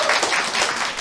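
A seminar audience in a hall claps loudly and continuously in a dense, sustained burst of applause.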